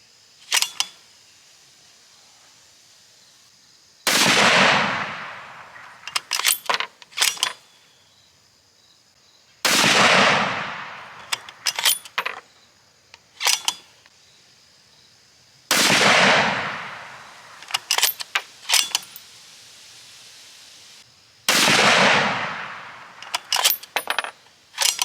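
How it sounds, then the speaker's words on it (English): Colt CBX precision rifle fired at a range, four loud sharp shots spaced several seconds apart, each with a ringing decay, separated by quieter clicks and metallic handling sounds of the action. "shoot some more of this center strike, and let's send 5 of them down here"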